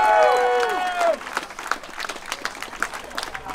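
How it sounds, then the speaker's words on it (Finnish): Audience applause for a contestant who has just dropped out of a chili-eating contest at a chili festival in Inkoo. A crowd claps in a dense, scattered burst that runs the whole time, with a voice speaking over the start. "Annetaan Janillekin aplodit vielä."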